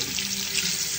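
Water runs steadily from a tap in a continuous, even hiss while someone waits for it to turn hot, with no speech.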